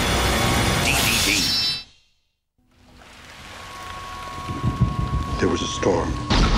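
Heavy rain and rumbling thunder roar loudly, cut to a brief silence, then the storm returns with rain hiss and sharp cracks.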